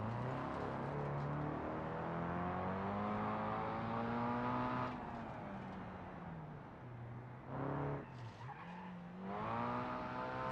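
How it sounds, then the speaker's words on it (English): A car in BeamNG.drive revs hard through a handbrake turn, its engine note swooping and dipping with bursts of skidding tire noise near the end, loud and up close with no talk. "Is that a cheeky handbrake turn?"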